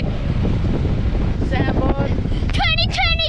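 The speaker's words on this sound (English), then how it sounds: "It's blowing a gale out here." A gale blowing across beach sand dunes at high tide, heavy wind roar buffeting the microphone throughout, with people's voices shouting over it toward the end.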